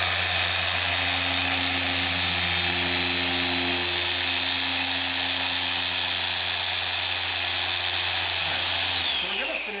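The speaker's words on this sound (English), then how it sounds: "this little polisher here" Small electric polisher buffing car paint, a steady high whine running continuously at close range and winding down at the end, with brief quiet talk beneath.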